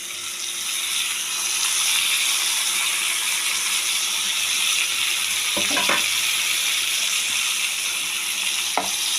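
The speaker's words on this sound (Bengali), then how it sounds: "এবার আমি একে একে আদা, রসুন, ঘষে রাখা পেঁয়াজ আর টমেটোগুলো দিয়ে দিচ্ছি" Ginger, garlic, grated onion and tomato fry in hot oil for fish kosa, giving a steady, loud broadband sizzle throughout with a few brief clinks of stirring near the end.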